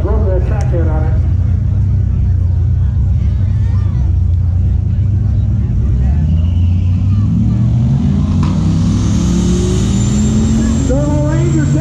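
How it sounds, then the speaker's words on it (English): A turbocharged Ford Ranger launches at a drag strip, its engine roaring loud and close with rising revs as the turbo spools up, while a person talks over the noise throughout. "Turbo Ranger taking off. Look at that turbo spooling up."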